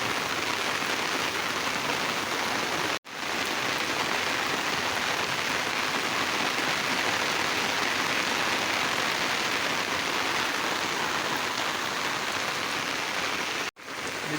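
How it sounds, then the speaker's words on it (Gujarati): Heavy rain pours down in a continuous, dense, loud hiss that barely varies, broken only by two brief cuts. "વરસાદ વધી ગયો છે ફૂલે ફૂલ"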